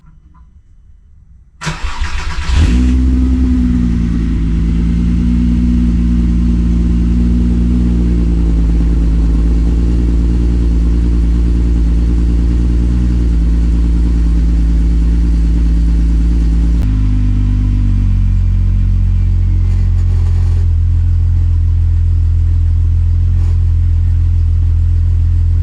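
A tuned 12-valve VR6 engine cranks and fires up, then idles with a deep, loud, steady drone that shifts to a lower pitch partway through, close up with no talking.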